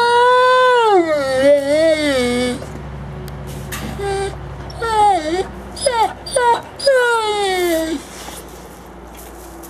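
A captive wolf in an exhibit whines and moans close by in long wavering tones, then breaks into several shorter rising whimpers and yelps separated by brief pauses.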